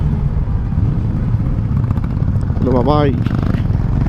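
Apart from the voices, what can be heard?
Honda Bigwing motorcycle engine echoing in a tunnel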